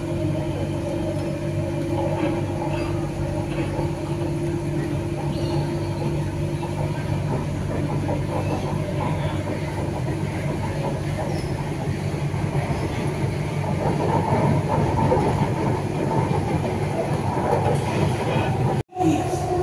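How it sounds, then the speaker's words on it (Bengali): Metro train in Bangalore running toward Kengeri, heard from inside as a steady rumbling roll with rising noise near the end, with people talking faintly. "metro is coming"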